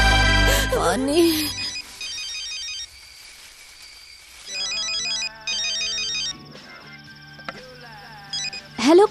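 A telephone rings in a dubbed Hindi action movie scene with a repeating electronic ringtone that plays in bursts across the clip, following an opening thump and mixed with music and other effects.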